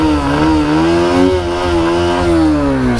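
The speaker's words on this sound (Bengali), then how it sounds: "ইঞ্জিনটা স্টার্ট করি, সাউন্ডটা শুনি।" A Honda CB Hornet 160R motorcycle, 2024 CBS model, idling in neutral with a steady, loud, even engine drone that rises slightly in pitch midway and then settles, heard up close with no talk.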